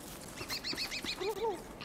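A wild turkey in the video game Don't Starve Together gobbles in a quick run of short warbling calls, faint and close, under quiet background sound.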